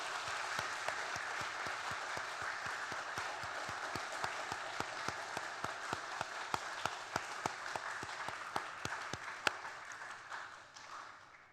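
A church congregation at a worship service applauds a tenor and the pastor's wife after a hymn: faint, even applause with some distinct claps, holding steady and then tapering off at the end.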